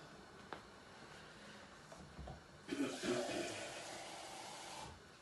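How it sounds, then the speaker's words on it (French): Faint water starts running from a kitchen tap about halfway through, a steady hiss that continues for a couple of seconds before stopping. "Voilà, je prends l'eau du robinet"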